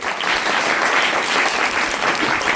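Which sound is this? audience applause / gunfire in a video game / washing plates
audience applause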